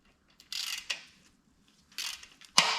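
Bolts on a Porsche 912E 2.0-liter engine being loosened with a ratchet, heard as a few separate bursts of metallic clicking and ratcheting, close up and fairly quiet, with short pauses between turns and no talking.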